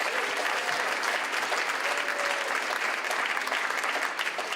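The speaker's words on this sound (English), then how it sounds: "just a round of applause for them" At a folk music conference keynote, the audience gives veterans a sustained round of applause, dense and even clapping from a sizable crowd, continuous throughout with no speech over it.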